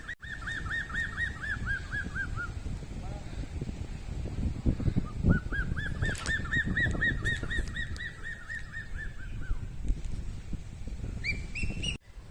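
People imitate a goose-like bird call to lure prey during a tribal hunt outdoors, a string of repeated honking calls in two bursts, fairly loud over a steady rustling background.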